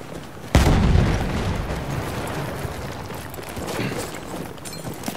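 A grenade blast in Battlefield 1 multiplayer on Xbox One, one sudden heavy boom followed by a long rumbling, noisy tail of debris and battlefield clamor, loud and close.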